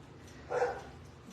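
A single short dog bark, faint and at a distance, over a quiet background hum.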